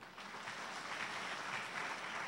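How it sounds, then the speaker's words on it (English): Faint, distant clapping from an audience at a conference on the family, a soft, even patter that holds steady throughout. "Can you give him a big clap?"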